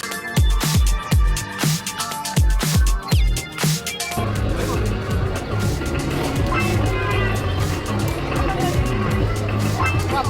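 An arcade racing game's car engine drones steadily across the second half inside a noisy Timezone game arcade at R City mall, following a stretch of rhythmic thumping music with loud beats.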